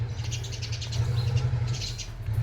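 Small birds, sparrows, chirp in repeated short bursts outdoors near a house with a guava tree, moderately distant over a steady low rumble of background noise.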